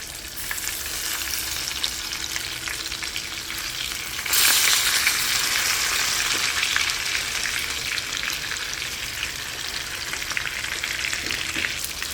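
Parmesan sesame crusted tilapia fillets fry in a pan after being flipped, giving a steady, close sizzle that grows noticeably louder and brighter partway through and then stays strong, with no voices.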